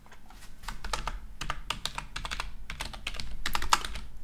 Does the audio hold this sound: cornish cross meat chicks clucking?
no